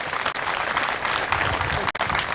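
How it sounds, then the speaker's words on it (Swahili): Crowd applause for Kituru at a community health promoters' commissioning event in Nandi, steady clapping with some voices mixed in, fairly loud and brief. "Tumpigie Kituru makofi."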